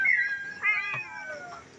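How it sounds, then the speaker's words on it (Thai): A cat meows a few times in close succession, clear and near, with quiet surroundings and no talk. "FC จะได้ดูน้องเหมียวยังไงกันบ้าง"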